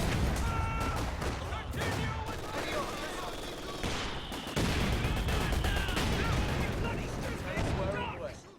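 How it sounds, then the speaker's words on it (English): Indirect artillery fire in Company of Heroes 2 during a 2v2 match: continuous booming impacts, rattling gunfire and explosions pile up densely throughout, with a commentator speaking over the barrage. "the amount of indirect fire coming in, this is really big trouble"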